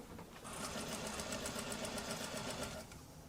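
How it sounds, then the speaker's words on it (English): A sewing machine stitches the back center seam of a pair of pants at a half-inch seam allowance. It gives a short, even run of rapid needle strokes that starts and stops cleanly, heard close and alone. "Now I'll stitch this back center at a 1/2 inch seam allowance."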